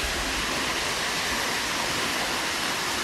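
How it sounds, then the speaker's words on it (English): Waterfall on Mount Tamborine roaring as a steady, dense broadband rush, loud and unbroken with no other sounds standing out. "And what a spot as well, right here by the waterfall."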